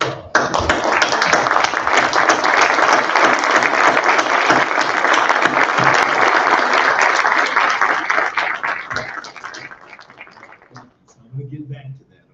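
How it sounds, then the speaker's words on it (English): An audience claps at a graduation ceremony, a dense steady burst of applause lasting several seconds before tapering off, followed by a voice starting to speak. "So let's give them a round of applause."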